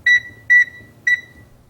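A walk-through metal detector, the Garrett PD6500i, sounds its alarm in three loud, clear electronic beeps, evenly spaced about half a second apart, with no talking.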